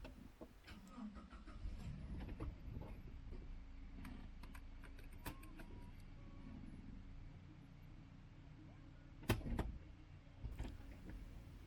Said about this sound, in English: So here's me moving it towards the bottom of the driveway.